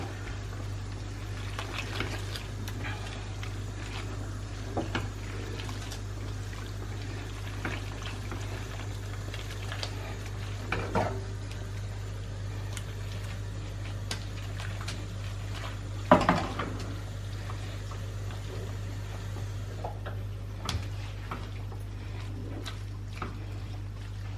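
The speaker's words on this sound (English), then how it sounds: "So I've been stirring the sauce to ensure that it's not soupy, to ensure it's nice and thick." Homemade pasta sauce simmers and bubbles quietly in a pan as it is stirred, with occasional faint clinks of a utensil over a steady low kitchen hum.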